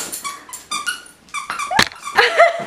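A frightened dog reacts to a clown toy with a run of short yelping barks, squeaky whines and a low growl, close to the microphone and fairly loud, with no talking.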